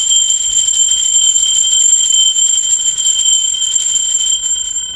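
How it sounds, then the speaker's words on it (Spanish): A bell rings on and on with a sustained, shimmering metallic tone at several pitches, steady and fairly loud, fading slightly near the end, with no talking. "Así que va campana."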